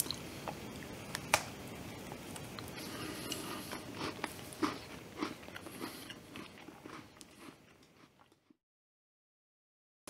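Someone bites into and chews a homemade cookie dough Twix bar with snappy chocolate, creamy dough and a crunchy cookie base, giving close, repeated crunching and wet chewing sounds that run steadily for about eight seconds and then stop.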